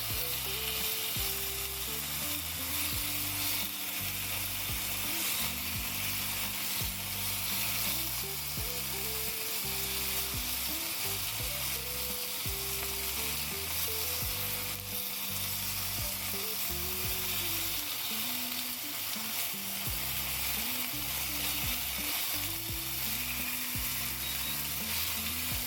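Beef rice noodle rolls stir-fry in a pan, giving a steady, loud, dense sizzle with occasional scraping that runs throughout, over a melodic background tune.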